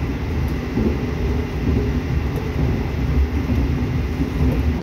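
The KA Lodaya passenger train runs fast on the rails in Indonesia, heard from inside as a loud, steady low rumble with constant rolling noise throughout.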